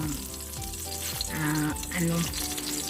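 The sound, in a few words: sautéing garlic, onion and tomato in a pan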